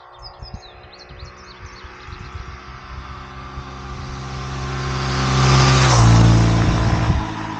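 Honda Trail 125 motorcycle with its original stock exhaust and no heat shield, riding along with a steady engine drone that builds as it accelerates and then eases off, while birds chirp faintly at the start.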